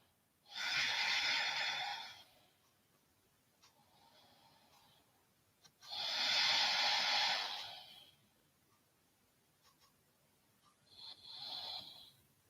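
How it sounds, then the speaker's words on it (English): Slow, deep breaths are taken while holding a sunrise yoga pose. Three long airy exhalations, close and fairly soft, are separated by quiet pauses. "I'm taking a few breaths here."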